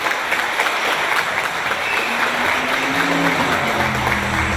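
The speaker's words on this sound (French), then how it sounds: "Je pense qu'on peut encore vraiment l'applaudir très très fort." Steady, dense applause from a crowd fills the whole stretch, loud and continuous without a break.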